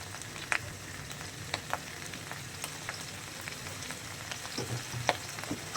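Dried chapila fish frying with chili and turmeric powder, a steady soft close sizzle with sparse sharp crackles and pops, no talk.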